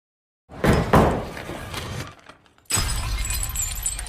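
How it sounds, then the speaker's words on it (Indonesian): A porcelain toilet tank lid drops and shatters in a film scene, a loud crash with ringing breakage, a brief quiet gap, then a second burst of scattering debris and rumble. "ia justru menjatuhkan tutup tangki toilet yang dipangkunya hingga pecah"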